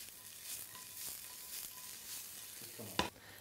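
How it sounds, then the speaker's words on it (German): Potatoes fry in a hot pan with a steady, soft sizzle and crackle, and a sharp clink or stir lands near the end. "So, wenn die Pfanne heiß ist, geben wir als erstes unsere Kartoffeln rein."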